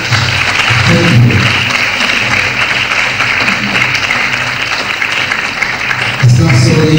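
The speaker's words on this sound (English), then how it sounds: "There's another round of applause for our guys" Steady crowd applause at a midwifery conference in Nigeria fills the whole stretch, with a murmur of voices underneath and a louder burst of clapping near the end.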